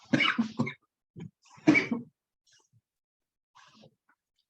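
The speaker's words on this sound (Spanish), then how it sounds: "tengo una tos tenaz" A few short, harsh coughs in quick bursts, close and fairly loud, followed by a fainter cough or two, with silence between.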